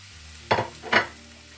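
Chopped onion dropped into a pan of frying zucchini ragout, giving two short bursts of sizzling and stirring close by over a low, steady hiss of frying, with no talk.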